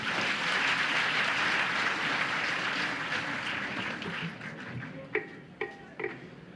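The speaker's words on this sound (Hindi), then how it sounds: "जोरदार तालियों के साथ।" Auditorium audience applauding, a strong wash of clapping that fades out over several seconds, leaving a few isolated claps and thumps at the end.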